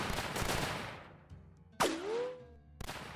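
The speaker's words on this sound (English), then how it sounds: "I wonder what happens if I shoot that guy." Gunfire in a tower defense video game: a loud burst of rapid shots, then a single sharp report with a ringing, pitch-bending tail, and another shot at the end, no voices.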